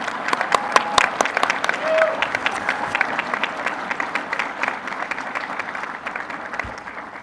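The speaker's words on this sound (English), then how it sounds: "One more round of applause for all of our graduates." Audience applause rings out at a university mechanical and aerospace engineering fall graduation ceremony, a steady, dense patter of many hands clapping throughout, moderately loud in a large hall.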